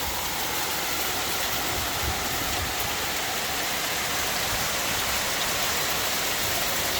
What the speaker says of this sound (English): And now more hail.